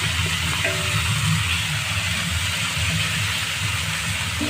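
Water spinach (kolmi shak) dropped into hot oil sends up a loud, dense, continuous hiss of sizzling, close and unbroken for the whole stretch, with faint low rumbling underneath.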